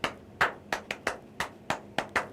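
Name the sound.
clapping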